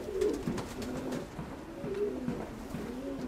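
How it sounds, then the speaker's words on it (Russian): Pigeons coo in low, soft, rolling phrases that repeat at a steady pace over a constant outdoor background hiss, with no voices. "Это я показываю те голубей,"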